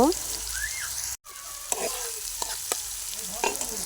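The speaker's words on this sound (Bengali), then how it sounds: "সরিষার তেলটা আমার গরম হয়ে গেছে এখানে দিয়ে দেবো কেটে রাখা আলুগুলো" Cut potatoes fry in hot mustard oil with a steady sizzle, broken by a brief silent gap and several sharp scraping clacks as they are stirred in the pan.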